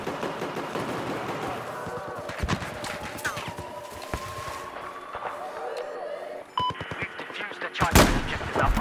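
Battlefield 4 gunfire on the Guilin Peaks Rush map, including an L115 sniper rifle, with repeated sharp shots and a heavy blast near the end, all under continuous game noise and talking voices.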